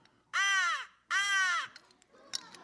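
A handheld bird whistle imitates a crow, giving two loud, harsh caws in a row, each about half a second long. A softer rustle and a faint chirp follow.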